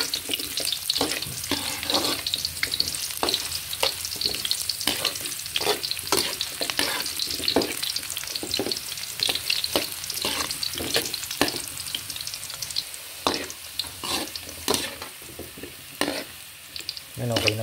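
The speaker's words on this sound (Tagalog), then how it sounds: "At iprito naman natin yung carrots." Steady oil sizzling and crackling as carrots fry in a pan, with repeated scraping and stirring clicks throughout, close and fairly loud.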